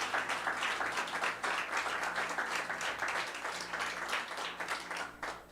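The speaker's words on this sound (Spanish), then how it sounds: "Ese aplauso para Jesús." A church congregation at a Spanish-language service applauds for Jesus, a steady, fairly quiet wash of many hands clapping with no voices over it.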